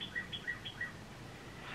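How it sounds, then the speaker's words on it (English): A few short, high bird chirps repeat in the first second, then the calls fade, leaving quiet background hiss. "Listen to this birds."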